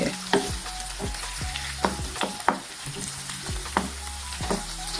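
Seasoned franks fry in a pot with little oil, steady sizzling under repeated scraping strokes of a spoon stirring them, with no voices.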